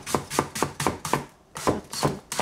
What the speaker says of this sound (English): Cut some onion.